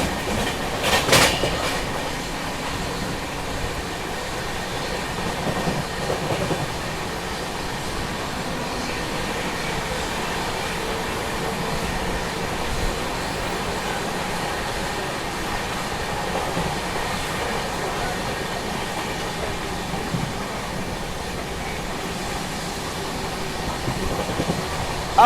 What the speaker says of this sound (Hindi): अब आ रही है स्वर्ण जयंती एक्सप्रेस।